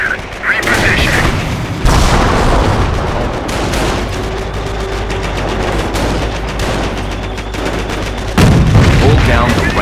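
A Sherman tank in the World War II video game Company of Heroes fires on the enemy amid a loud battle din of booming shots and steady gunfire. A low engine hum runs underneath, and a voice speaks briefly.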